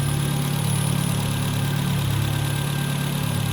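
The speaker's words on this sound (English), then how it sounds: "Like I said, great smooth running engine." A 1978 Triumph Spitfire 1500 convertible idles steadily and smoothly, its stock engine giving a continuous, even low hum and a faint high whine with no variation and no talk.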